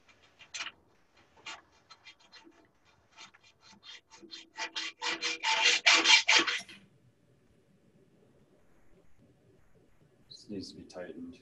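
Hacksaw strokes cutting through a pipe, a series of rasping strokes building louder and faster before stopping, followed by quieter handling sounds.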